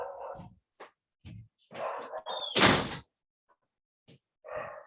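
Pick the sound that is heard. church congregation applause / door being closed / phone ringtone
door being closed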